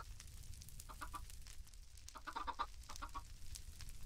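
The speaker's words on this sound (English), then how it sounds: "let's spawn some chickens." Minecraft chickens cluck in short, faint clusters of blips against a steady low hum of background game noise.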